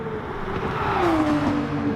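A Gr3 race car engine in a Nissan versus Porsche video game race drones close and loud, its pitch gliding downward as the car slows into a corner.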